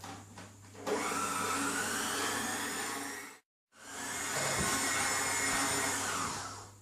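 An electric mixer whirs loudly and steadily as it whisks egg whites into meringue, cutting out briefly once before starting up again at full speed.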